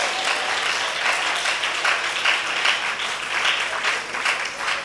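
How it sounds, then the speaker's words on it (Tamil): A church congregation at a Sunday service bursts into sustained applause, dense clapping from many hands filling the room at a steady, lively level throughout. "ஒரு கைத்தட்டல் கொடுங்க எல்லாரும்."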